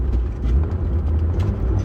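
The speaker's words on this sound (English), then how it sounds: "Bad downshift." Car downshifting gears: a steady, loud low engine rumble that surges slightly as the revs change, heard close with no talking.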